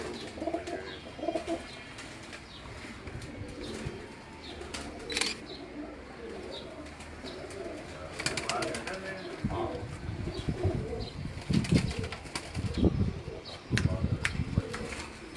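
Pigeons on a rooftop in Faisalabad coo softly and flutter their wings now and then, fairly close, while people talk nearby.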